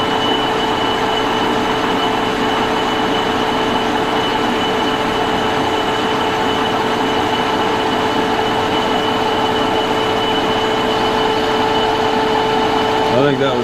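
A metal lathe runs steadily as its carriage feeds forward into a cut, giving a loud, constant mechanical hum with faint whining tones throughout, unchanging for the whole stretch.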